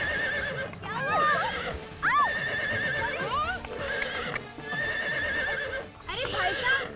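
A horse neighs and whinnies repeatedly, loud and close, with hoof clatter and people talking over it throughout.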